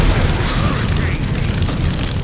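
A roaring, sustained fire-style jutsu blast from Naruto Ultimate Ninja Storm 4, a dense low rumbling explosion filling the whole moment at close range, with no pause or talk.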